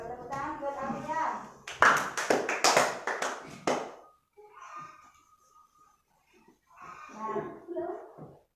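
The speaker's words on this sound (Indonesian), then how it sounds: "Tepuk tangan buat Afian." Classroom of sixth-grade pupils clapping in rhythmic unison for a classmate, a short burst of sharp, evenly spaced claps between stretches of an adult teacher speaking.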